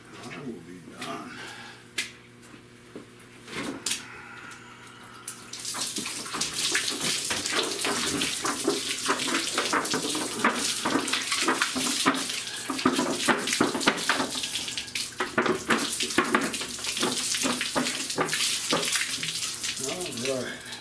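Water sprays steadily onto a rusty car frame part, a dense hissing wash that starts after a few seconds of quieter dripping and continues loud and unbroken, with occasional splattering bursts.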